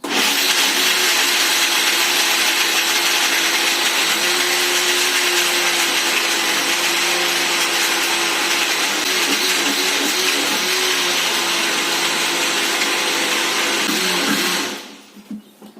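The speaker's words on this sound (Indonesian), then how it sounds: "kita nyalakan lagi blendernya" A kitchen blender whirs steadily at full speed, blending avocado juice with ice. The loud, even motor hum runs for about fourteen seconds before spinning down and stopping.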